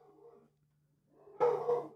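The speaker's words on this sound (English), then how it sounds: "The dogs are going nuts." Dogs bark and whine at a distance in short yelps and a rising outburst near the end, clear and unmasked by talk.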